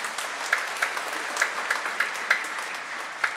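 Congregation applauding inside a Catholic parish church during a thanksgiving Mass for the parish's 30th anniversary, a steady, dense wash of clapping with no voices over it.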